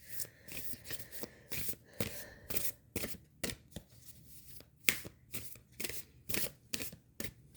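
Tarot cards shuffled and laid out, a quick series of crisp riffles, slaps and snaps in an irregular rhythm, close and fairly quiet, with no talking.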